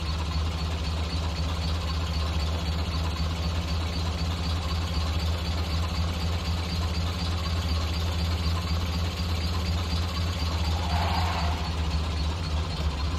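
A slow car's engine idling and driving in GTA 5, a steady low droning rumble with faint knocking vibration, constant and unchanging throughout, heard alone.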